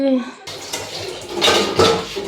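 Dishes being washed up close: clinking plates and cutlery knocking together over splashing water, with a brief voice at the start.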